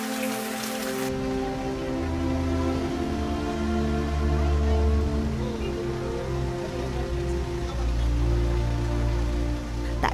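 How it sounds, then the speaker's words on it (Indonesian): Heavy rain drums steadily on a surface, a dense, loud, unbroken hiss with a low rumbling undertone and no voices. "Meskipun cuaca hujan cukup tinggi"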